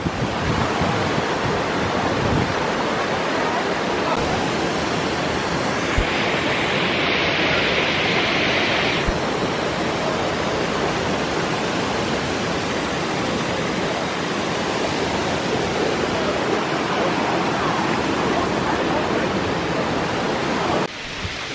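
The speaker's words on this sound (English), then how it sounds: "So we got to the top of the waterfall" Aber Falls in Wales pours in a dense, unbroken roar of falling water, loud and steady throughout with no voices over it.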